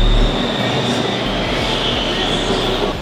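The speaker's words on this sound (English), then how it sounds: "I missed the train." A train departs a station in Bangkok, its loud, steady rolling rumble filling the space with a thin high whine from wheels or motors running throughout.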